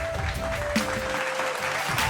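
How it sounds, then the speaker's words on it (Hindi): Audience applause at an SSC GD success award ceremony, a steady, dense wash of clapping lasting the whole moment, loud and close, with an indistinct voice faintly underneath. "एक बार जोरदार तालियां हमारे"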